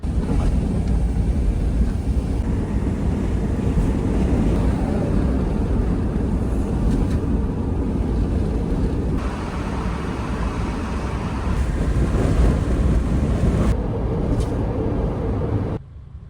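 A Toyota drives down a road on a long trip to pick up tri-spoke wheels in Japan, with a steady low engine and road rumble that stays close and continuous and then drops off sharply at the very end.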